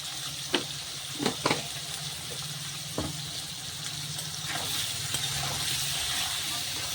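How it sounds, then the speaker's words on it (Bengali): Food frying in a pan with a little turmeric powder added, a steady soft sizzle and hiss running throughout with a few brief clicks of stirring, no voices. "ভাজা হবে, একটু হলুদ গুঁড়ো দিয়ে দিই, ভাজাটা তাড়াতাড়ি হবে।"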